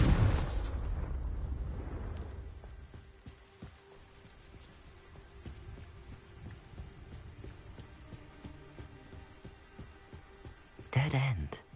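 A Confringo fire spell bursts in Hogwarts Legacy, a loud rumbling explosion at the start that fades over a couple of seconds, with quieter scuffing and another sharp blast near the end.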